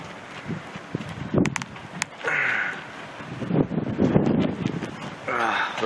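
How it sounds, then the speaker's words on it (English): Strong winter storm wind gusting and driving blowing snow during a polar vortex, rushing and buffeting against the microphone in surges, with someone talking over it. "Snow just blowing like crazy."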